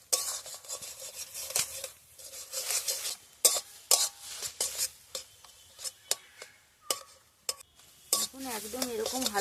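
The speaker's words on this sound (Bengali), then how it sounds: "হালকাভাবে ভাজতে হবে যার জন্য আমি একটু মাঝে মাঝে একটু এরকম করে দিচ্ছি" Eggs with spring onion cook in a pan for egg bhurji, with a soft sizzle under repeated scraping and clinking strokes of a utensil against the pan, close and fairly quiet, in irregular bursts.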